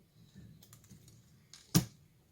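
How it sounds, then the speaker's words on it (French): Paper being cut straight with scissors while making a handmade greeting card, a soft scattered rustle followed by one sharp close snip, with no talking. "je vais prendre mon ciseau et je vais couper bien droit."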